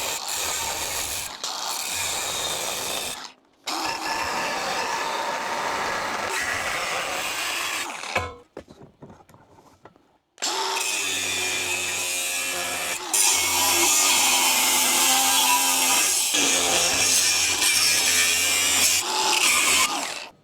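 A metal bracket clamped in a vise is cut with a powered saw, giving long, loud, steady grinding bursts broken by a short pause and a quieter stretch before the cutting resumes at full strength; no voices.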